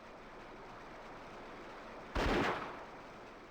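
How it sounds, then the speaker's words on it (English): A single sharp gunshot, fired to scare birds in the N64 game Indiana Jones and the Infernal Machine, cracks out over a low steady ambience. It is loud and broadband, then decays over about a second. "you just shoot your gun to scare them away"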